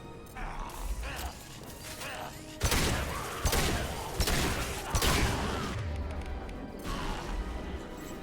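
A rocket launcher fires in the video game Mass Effect, followed by a blast, with heavy booming impacts, crashes and mechanical clatter over several seconds, loud and close, with voices talking throughout.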